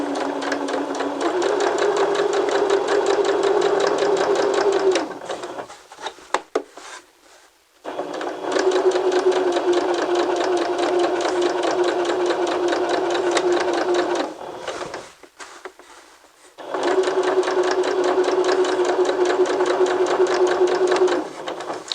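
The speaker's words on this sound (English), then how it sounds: "we're just going to do a straight stitch all the way until we meet the other dot" A sewing machine runs a straight stitch in three long bursts, its fast, even whirring hum broken by brief quiet pauses between runs.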